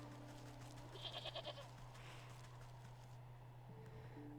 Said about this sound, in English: Oh good, the goats escaped.